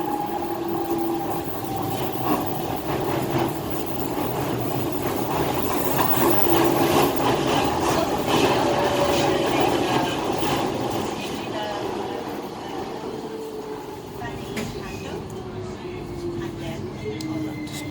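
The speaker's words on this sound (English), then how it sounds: "This train is for Lewisham." A DLR train runs between Canary Wharf and Lewisham with a steady rolling rumble and whining motor tone throughout, while a recorded announcement voice speaks over it.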